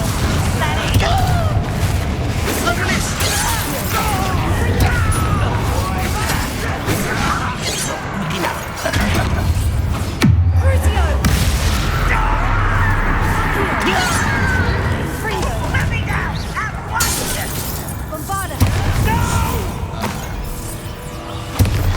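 A spell impact in the Hogwarts Legacy video game, the Descendo slam landing as a booming crash with a heavy low thud amid dense, continuous combat noise and voices.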